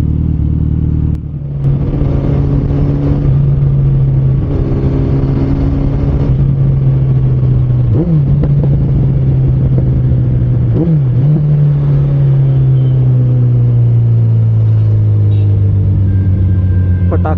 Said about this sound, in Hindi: तो भाई साहब बड़े ही जबरदस्त मार रही है बाइक